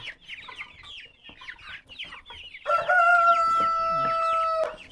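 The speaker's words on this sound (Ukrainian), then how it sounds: "Це брама порцелянова, кугут такий" A young porcelain Brahma rooster crows loudly and close by with a strained, harmonic call, preceded by a busy stretch of chirping and clucking from other chickens nearby.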